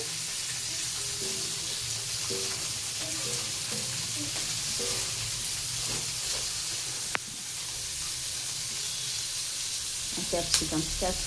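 Carrots and other vegetables fry in a wok with a steady, dense sizzle and hiss, with occasional stirring knocks and a sharp clatter near the end.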